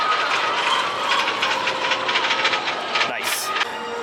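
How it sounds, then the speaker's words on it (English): A train passes at Disneyland Paris with steady mechanical rattling and clanking of wheels and cars, fairly loud and close, with a brief squeal near the end. "Oh, there's a train."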